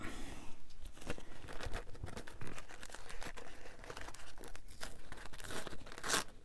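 Natural-coloured, unbleached junk-journal paper is torn and handled close by, making a continuous rough rasp of crinkling and ripping with sharper snaps throughout and no talking.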